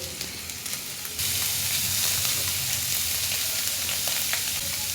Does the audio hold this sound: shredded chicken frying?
yes